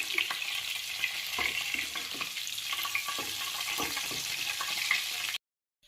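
Potato chops fry in hot oil, a dense, steady sizzle with scattered crackles and pops heard close up, continuing for several seconds before cutting off abruptly.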